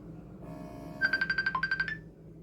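A smartwatch placing an outgoing Bluetooth call sounds a clear ringback tone: a quick train of about nine evenly spaced high beeps after a faint lead-in tone, close and alone.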